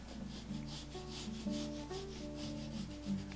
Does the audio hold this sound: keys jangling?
no